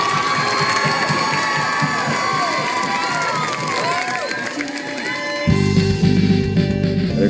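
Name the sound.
crowd cheering and applauding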